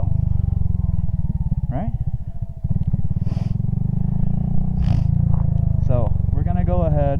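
A motorcycle engine idles and runs steadily with a continuous low throb as the throttle is released for a gear shift, with someone talking over it close by.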